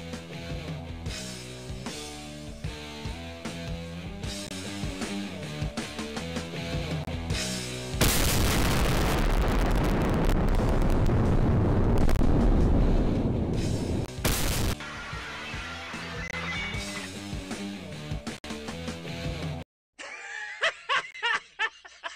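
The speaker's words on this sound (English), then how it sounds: "Then we have no choice but to open fire." Cartoon gunfire and explosions erupt in a dense, loud barrage over a music score, building to a sustained roar of blasts, then dropping off abruptly at the end.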